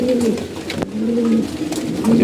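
Close pigeons coo in low, throaty repeated calls, with a brief sharp tap partway through.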